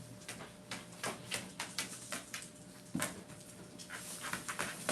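A puppy named Claire pants close by, a rhythmic string of breathy huffs repeating at a steady pace, with faint tapping underneath.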